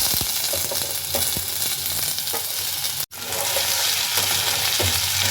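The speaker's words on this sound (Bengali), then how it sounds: "আজকে শুকনো লঙ্কা ফোড়ন দিয়ে আলুটা ভাজবো" Cut potatoes fry in hot oil tempered with dried red chilies, giving a loud, continuous sizzle with occasional stirring knocks. A brief dropout falls near the middle, and no one speaks.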